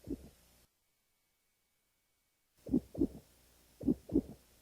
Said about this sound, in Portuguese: muitos milhões delas trabalhando de uma vez constituem um batimento cardíaco